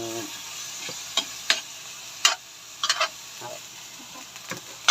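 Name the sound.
stirring meat cooking in a pan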